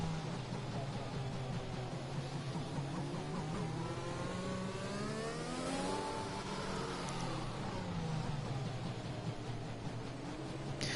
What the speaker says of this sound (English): Jerome Visser being very harsh with his gearbox there, revving it all out